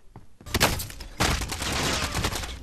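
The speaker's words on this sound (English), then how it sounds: "stop shooting!" Rapid gunfire in the Warzone battle royale game, a loud sustained fusillade of overlapping shots that starts after a brief quiet moment and continues without a break.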